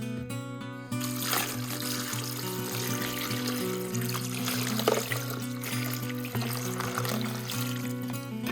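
Water pours and trickles steadily from a tap while chrysocolla pendants are rinsed between tumbling stages, a continuous close splashing with faint clinks of stones and some tonal hum underneath.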